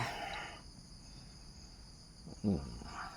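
Faint, steady high-pitched insect chirring fills a quiet rainforest night during solo camping after heavy rain, with a brief low thump near the end.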